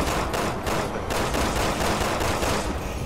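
Sniper rifle gunfire in the video game Resident Evil 6, dense and continuous with repeated sharp shots over a constant roar of battle noise.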